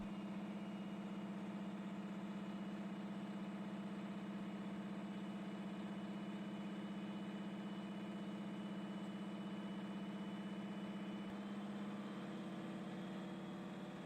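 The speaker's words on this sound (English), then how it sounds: "Once fuel is introduced and the engine fires, the synchronized operation of the roots blowers and turbochargers becomes evident" A vintage two-stroke engine fitted with roots blowers and turbochargers runs at a steady, even drone, a continuous low hum with a whining overtone that holds unchanged for the whole stretch, with no voices.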